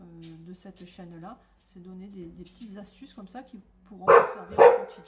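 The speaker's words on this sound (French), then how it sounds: "c'est le chien qui aboie" Dog barking twice, loud and close, right after a person finishes speaking calmly indoors.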